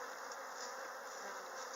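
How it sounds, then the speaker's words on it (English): Dense, steady buzzing of many honeybees at an open hive during a spring inspection, frames heavy with honey and pollen, continuous and close with no talking. "Look at all those bees on the board."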